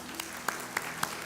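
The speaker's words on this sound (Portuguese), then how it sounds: "Uma salva de palmas para Isa" A church congregation at a Saturday service claps for Isa, a soft steady patter of applause with a few sharper claps standing out, fairly faint and brief.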